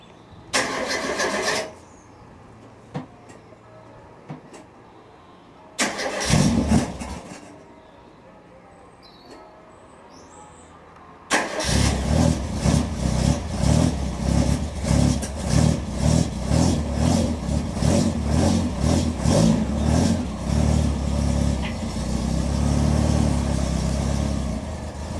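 A 1998 Caterham 7 engine cranks over in two short attempts, then catches and runs, revving loudly in rhythmic pulses close by for the rest of the stretch.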